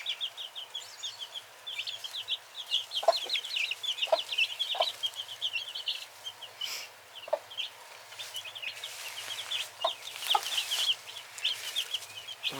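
A hen clucks softly while her chicks peep constantly in high, rapid chirps, all fairly faint and close by in a quiet setting.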